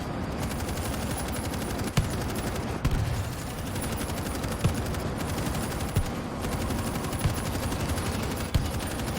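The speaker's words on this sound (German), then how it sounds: "ich kann jetzt einfach mal schießen" Sustained automatic gunfire in the co-op zombie shooter World War Z rattles in rapid continuous bursts, with sharper single cracks punching through every second or so, all at a moderate, fairly distant level.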